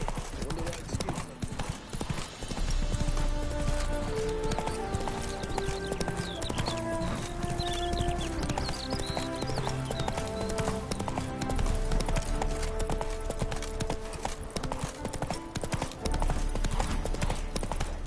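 Roach the horse gallops in the video game The Witcher, fast rhythmic hoofbeats clip-clopping steadily beneath an ongoing musical score.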